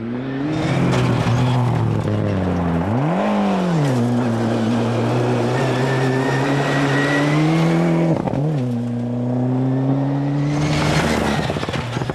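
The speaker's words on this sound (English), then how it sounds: "Twisting and flinging his tail, Gary Smith in another Escort." A Ford Escort rally car passes on a stage, engine note rising and falling through gear changes and lifts, loud and close, with a brief surge of noise as it goes by and another car approaching at the end.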